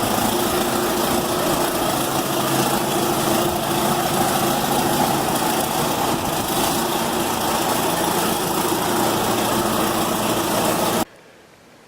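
A John Deere 540B skidder engine runs steadily and loudly up close, a constant rough idle-like drone with vibration throughout, cutting off abruptly near the end.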